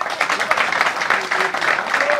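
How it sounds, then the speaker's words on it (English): Audience clapping for technicians at a Nigerian automobile technicians' association meeting: loud, close applause with a quick, slightly uneven rhythm, sustained throughout and joined by faint crowd voices. "Clap for technicians."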